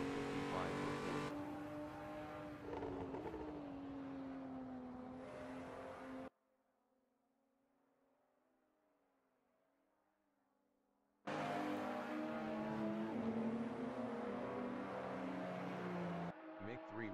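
BMW M23 race cars on a sim racing game's Road Atlanta circuit, engines droning steadily with shifting revs and passing cars, cut by a few seconds of near silence before the roar returns.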